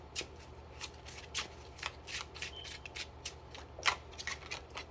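Tarot cards being shuffled and handled to draw a final card, a run of quick, soft papery riffles and flicks at close range, fairly quiet, with no voice.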